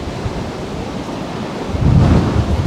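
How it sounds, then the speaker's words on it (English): Wind blusters loudly across an outdoor shooting area, a steady rushing roar that swells stronger near the end with no one speaking. "Here comes the wind."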